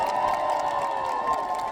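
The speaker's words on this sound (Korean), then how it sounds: "여러분의 청직한 일꾼 박수 한번 보내주십시오" A crowd cheers and applauds at an outdoor presidential campaign rally in Yongin, a dense roar of voices that stays loud and continuous throughout.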